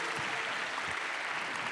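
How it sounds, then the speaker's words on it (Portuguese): Church congregation applauding a young man welcomed to the school, with steady dense clapping throughout and no talk. "Palmas aqui para o Lucas."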